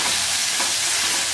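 Steady, loud sizzling of onions frying in a hot pan, a continuous hiss with faint stirring, no voices.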